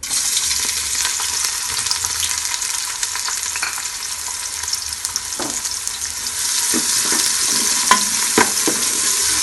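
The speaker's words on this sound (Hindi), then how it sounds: "ऑयल हमारा गर्म हो गया। तो अब हम इसमें प्याज ऐड कर देते हैं।" Onions sizzling steadily in hot oil in a pressure cooker, a dense continuous frying hiss with occasional spoon scrapes and clinks, close and loud throughout.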